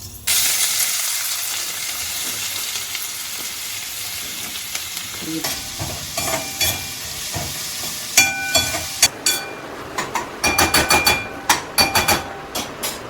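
Mustard and fenugreek seeds fry in hot oil for a taro root (chamadumpala) pulusu, starting as a steady sizzle and turning into a burst of sharp crackling pops near the end, with no voices.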